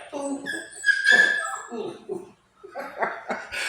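A puppy whimpers and yips in short high cries close by, alternating with bursts of chatter, then pauses briefly before more yelping.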